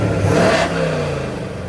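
A 1964 Chevrolet Chevelle Malibu engine revs up loudly, then settles into a throaty exhaust rumble as the pitch drops back; close and continuous.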